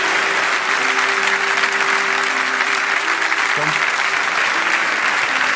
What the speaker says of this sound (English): a round of applause for the Danish captain with us tonight